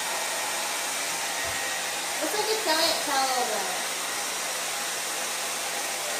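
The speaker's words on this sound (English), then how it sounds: "So you just created an air mattress on a hair dryer." A hair dryer on its cool setting blows with a steady, loud rushing roar throughout, while a voice speaks briefly over it partway through.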